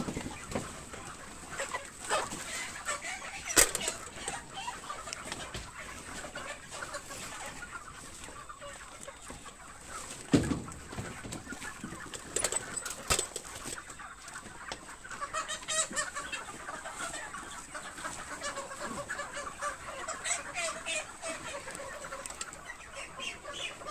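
Many chickens clucking and squawking together inside a vehicle at a 37-day broiler harvest, a busy continuous flock chatter with occasional louder calls, heard close up.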